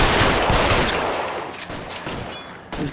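Rapid machine gun fire in a video game, a loud continuous burst of close shots that fades slightly toward the end before a final short crack.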